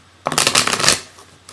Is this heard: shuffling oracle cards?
yes